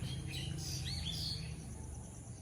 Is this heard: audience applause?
no